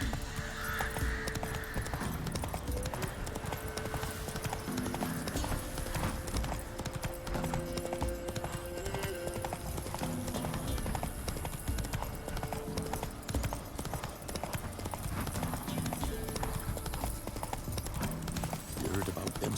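Horse hooves clip-clop steadily while riding in The Witcher 3, a continuous rhythmic beat over music and game ambience, with voices talking at times.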